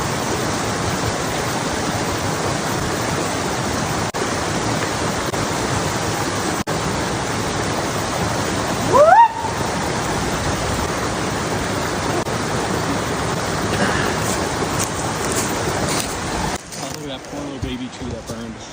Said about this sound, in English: It's all pretty dried out right now, but there is running water.